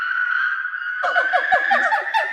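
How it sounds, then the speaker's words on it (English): A chattering monkey sound sample is pitch-bent upward into a rising riser in an electronic track, a steady tone joined midway by rapid chirping calls that climb in pitch. "this monkey sound just kind of ended up sounding really cool"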